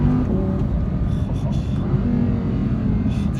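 A tuned 1000 HP Audi R8 supercar engine drones steadily in a garage, a deep, loud, continuous rumble with faint voices under it.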